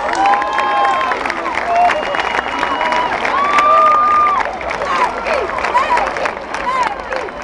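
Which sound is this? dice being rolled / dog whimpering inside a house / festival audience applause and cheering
festival audience applause and cheering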